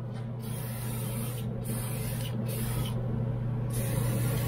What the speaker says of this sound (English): Okay, guys, I'm only gonna show you how it sprays on this side, because it gets everywhere.